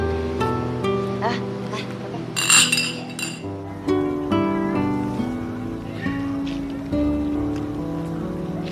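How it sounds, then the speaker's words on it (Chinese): Glasses clink together in a celebratory toast at a wedding-style gathering, with a bright cluster of chimes under talk and background music. "来，为弟弟弟媳妇儿干杯！"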